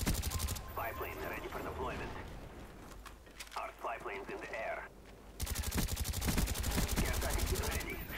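Rapid bursts of automatic gunfire in a multiplayer shooter game, loud repeated rattling volleys in several stretches, with someone talking over parts of it.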